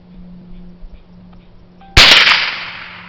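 One sharp, loud gunshot from a copper-plated hollow-point bullet hits a car alternator, followed by a bright ringing metallic decay after a quiet stretch of faint room noise.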